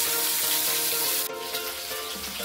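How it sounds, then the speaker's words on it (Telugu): Tomatoes frying in oil for an Andhra-style coriander and brinjal chutney, a steady loud sizzle with a brief sharper hiss midway, no talking. "చెంచా నూనె వేసి టమాటాలు వేయాలి"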